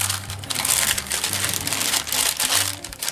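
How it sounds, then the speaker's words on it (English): A plastic bag from an advent calendar being torn open by hand, with loud, close crinkling and crackling bursts that run continuously for a few seconds. "I know I'm ripping the bag open here"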